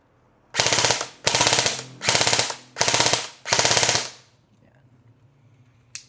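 Airsoft rifle firing on full auto in five loud, close bursts of rapid shots with short gaps between them, then quiet after about four seconds.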